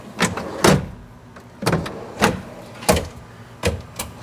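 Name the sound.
camp kitchen drawer guides sliding and locking in a Jeep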